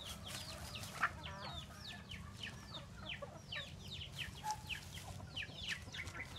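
Roosters and hens cluck and chatter in a busy flock, a continuous stream of overlapping calls at moderate distance over steady low background noise.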